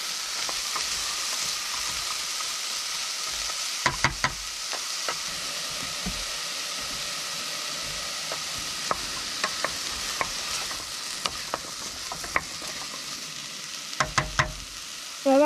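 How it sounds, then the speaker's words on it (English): Onion, carrot, celery and garlic sauté in a pot with a steady, even sizzle, broken by occasional scraping clinks of a stirring spoon against the pot. "just let that saute for a couple more minutes"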